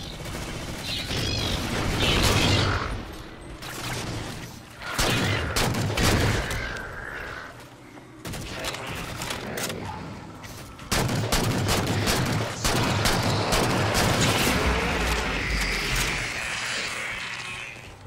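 Halo 4 gunfire, likely against Prometheans, crackles in rapid bursts and sustained volleys through an 18-second firefight, fairly loud and busy throughout with brief lulls between salvos and no talk in the clip.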